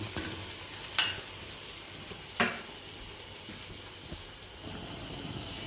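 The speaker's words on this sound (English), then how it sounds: "So I'll let it fry for around 5 minutes" Aloo pie dough frying in hot oil, a soft continuous sizzle with a few sharp crackles and pops spaced out over several seconds, no voices.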